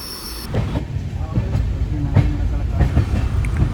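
A train rumbles steadily along the rails near Sakleshpur, Karnataka, with rhythmic clicks and clacks, heard from inside a carriage, with faint background voices.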